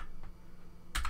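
Clicks from a computer keyboard as a shell command is typed, a few soft keystrokes close up, then a louder burst of clatter near the end, with no talk.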